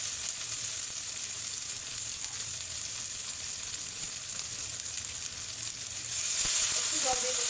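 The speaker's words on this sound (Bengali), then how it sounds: "দেবো মরিচের গুঁড়া, দেবো জিরার গুঁড়া। একটু জল দিয়ে কষিয়ে নেব।" Chili and cumin powder fry in oil with a splash of water in a pan for prawn dopiaza, giving a steady soft sizzle throughout that grows brighter and louder near the end.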